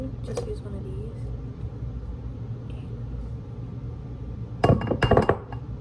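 A glass bowl clinks on a kitchen counter while butter is melted for a cake, with a few sharp knocks early on and a closer cluster of clinks near the end over a low room rumble.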